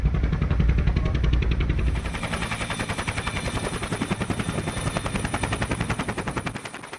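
A naval helicopter on an anti-piracy operation drones steadily with rapid, rhythmic rotor thumping throughout, loud and close, with a heavier low rumble at the start.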